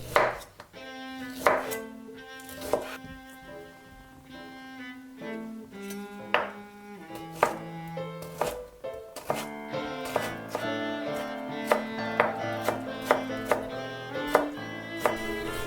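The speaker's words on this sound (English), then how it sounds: "I cut the bamboo shoot into small cubes." A knife chops bamboo shoot into small cubes on a board, crisp close taps that speed into a quick regular rhythm, with soft background music underneath.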